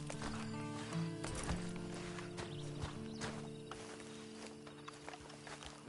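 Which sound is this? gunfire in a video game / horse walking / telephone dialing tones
horse walking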